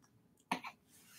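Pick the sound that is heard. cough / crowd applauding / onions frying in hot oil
cough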